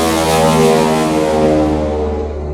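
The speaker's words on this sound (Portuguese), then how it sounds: "pode ser que passe algum barco atrás de mim" A passing boat sounds its deep horn, a loud sustained low blast right behind the recording spot that swells and then slowly fades, with no talk over it.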